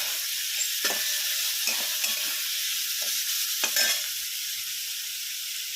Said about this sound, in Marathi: टॉमॅटोलाही थोडंसं परतून घेऊया